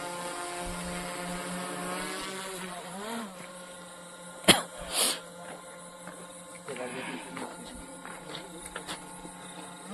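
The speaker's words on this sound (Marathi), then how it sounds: "तर आता आपण ड्रोन फ्लाय करा." A drone flies during an outdoor horror-scene shoot, giving a sustained, fairly faint whining hum with steady tonal layers. People talk and make brief louder noises over it.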